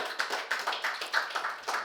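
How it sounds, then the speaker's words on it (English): An audience claps in a quick, even rhythm, the faint pulses tapping along one after another for a couple of seconds. "Another huge round of applause for him."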